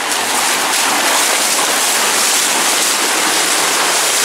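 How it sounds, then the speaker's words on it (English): Loud, continuous rush of floodwater gushing from a sump pump during a basement flood, a steady broadband roar with no pauses and no voices. "There's the sump pump."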